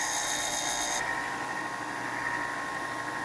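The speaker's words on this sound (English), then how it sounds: "do the quick and dirty way of grinding these pins" A basic big-box bench grinder grinds down mold pins, a steady high whine with a sharp metallic squeal over the first second that then falls away, leaving the motor humming on evenly.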